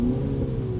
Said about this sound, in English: see it's automatically downshifting for us